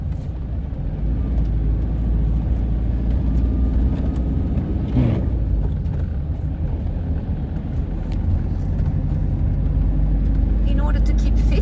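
Car cruising slowly at about 40 km/h through the streets of Limhamn in Malmö, heard from inside as a constant low engine and road rumble, with one brief passing sound midway.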